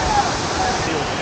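Water pouring down Hogenakkal waterfall, a steady broadband roar heard from a distance, unbroken and even throughout.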